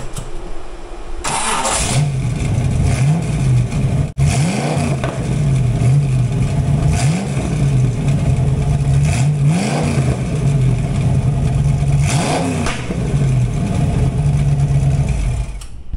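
V8-swapped Pontiac Fiero firing up and then revving loudly, its engine rising and falling in repeated blips over a steady idle, close by.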